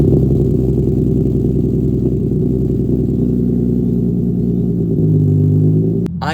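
An Infiniti G37 exhaust drones at a loud, steady idle, then shifts pitch slightly near the end, with no talking.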